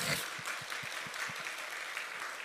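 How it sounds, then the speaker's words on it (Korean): Quiet applause from a congregation at a Korean church prayer service, steady clapping, sounding somewhat distant and soft. "박수를 한번."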